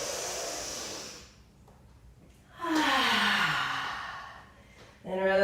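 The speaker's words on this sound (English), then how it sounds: "Nice big breath." Big breaths taken during a morning yoga exercise: a long exhale fades out, a pause follows, then a loud, drawn-out breath rises and falls, and another breath begins at the end, close and unaccompanied.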